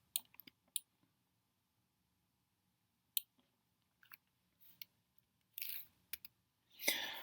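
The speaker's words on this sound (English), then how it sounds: "I will click Control on the keyboard first, and then resize it like that." Sharp, scattered clicks and taps from a computer keyboard sound near and fairly quiet in an otherwise silent room, coming singly and in short bursts with a few longer rustling scrapes toward the end.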